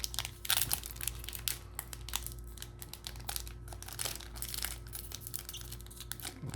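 A Magic: The Gathering Kaldheim set booster pack being torn open from the center, with a steady run of crinkling, ripping foil wrapper noise close up over a low constant hum, and no voices.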